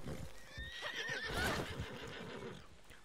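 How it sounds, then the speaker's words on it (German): Horse in the Red Dead Online video game, heard with a loud, close whinny and clopping hooves over a steady outdoor background. "Jetzt hat dein blödes Pferd mich runtergeschmissen."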